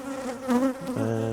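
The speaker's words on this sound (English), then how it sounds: "the bees are just hovering over her here" Honeybees buzz close up as they hover over a virgin queen at a hive, a steady droning hum with shifting pitch as individual bees pass near.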